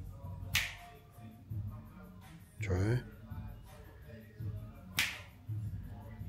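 Two sharp finger snaps, close and distinct, a few seconds apart, done at a table while crafting a white T-shirt, with a person's voice speaking briefly between them.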